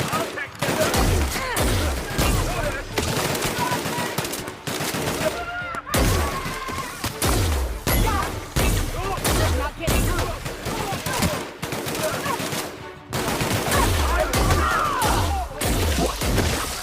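Heavy weapons gunfire in The Outer Worlds, sustained bursts and booming blasts with crashing impacts running continuously at close range and loud throughout, with brief dips in between.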